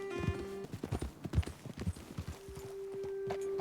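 Horse hooves clip-clopping in the video game Red Dead Redemption 2, a steady run of close, distinct hoofbeats that slows and thins out toward the end, with a faint tonal background hum.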